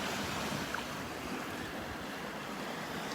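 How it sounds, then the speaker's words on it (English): Ocean surf breaking on a beach at Delnor-Wiggins, a continuous broadband wash with wind rumbling over the microphone. "Now with these waves, it's kind of spreading things out."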